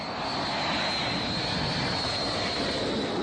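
American F-111 jet aircraft taking off in the evening, a steady, loud, broadband engine roar with a sustained high whine, continuous and unbroken throughout with no voices.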